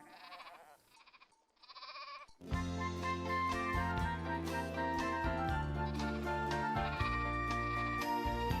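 A sheep bleats in several wavering cries over the first couple of seconds, then gives way to loud, full music that carries on to the end.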